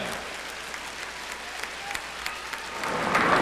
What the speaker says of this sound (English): a big round of applause for the Scholar Athlete Award Class of 1997